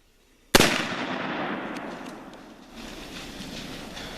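A single sharp rifle shot cracks out at a whitetail deer on a Virginia mountain hunt, loud and sudden after near silence, then rolls away in a long echoing rumble across the terrain.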